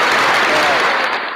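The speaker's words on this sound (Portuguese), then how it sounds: "Cadê as palmas aí pra mim?" Studio audience clapping on request during a Portuguese talk show on emotions and autoimmune disease, a dense, loud burst of applause lasting about a second and a half before tapering off.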